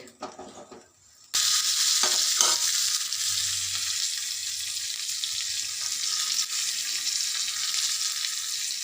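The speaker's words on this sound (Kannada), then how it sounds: "ಈಗ ಒಗ್ಗರಣೆ ಕೊಡೋಣ." Mustard seeds and curry leaves tempering in hot oil for a coconut-mustard chutney served with traditional Karnataka otthu shavige, starting with a sudden loud, steady hiss of frying that continues unbroken to the end.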